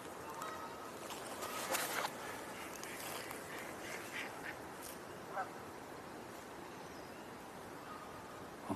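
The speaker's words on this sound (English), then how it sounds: "I think I hear more geese." Geese honk and quack at a pond, several scattered calls some distance off over a low outdoor background, with a faint voice at times.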